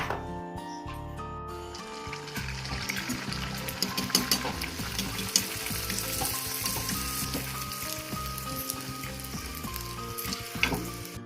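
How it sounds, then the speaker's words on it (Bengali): Naan puri deep-frying in hot oil in a wok, a loud, steady crackling sizzle that runs the whole time with sharp pops and bubbling, and no talking. "তো তেল গরম হয়ে গেছে, এবার ভেজে নেবো।"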